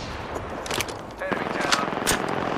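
Automatic weapon fire in the shooter game Apex Legends, several short bursts of gunshots over a busy game soundscape.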